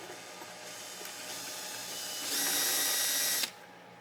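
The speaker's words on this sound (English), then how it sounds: "Take my drill." A power drill boring through a plastic container being made into a purple martin house, a steady close whine that rises in pitch and loudness as the bit bites, then cuts off abruptly.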